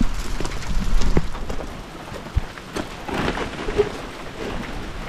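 Steady rain patters on a hillside beside a pole barn, with some louder drops, and distant thunder rumbles underneath. The sound stays moderate and continuous, with no voices.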